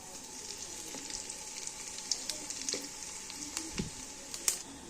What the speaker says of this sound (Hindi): मैंने कड़ी पत्ते डाले हैं। अब ये सारे मसाले, गरम मसाला, सूखा धनिया, सुरख मिर्च, दरा मिर्च और नमक, ये सारी चीज़ें डालूंगी।